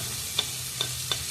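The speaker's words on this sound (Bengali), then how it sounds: "এবার একটু একটু নাড়াচাড়া করে দেবো।" Ginger frying with vegetables in a pan for vegetarian chowmein, a steady soft sizzle with three faint, evenly spaced taps of a spatula stirring, close and quiet.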